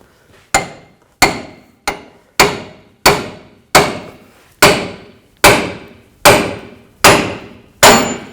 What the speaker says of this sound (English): I'm going to try a pickle fork. Sometimes these are kind of tricky to get to separate